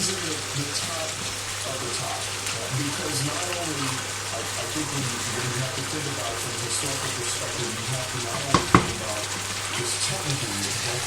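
Fish frying in hot oil for a Gambian beans and sauce dish, giving a steady, dense sizzle that crackles throughout, with a couple of brief louder clatters near the end.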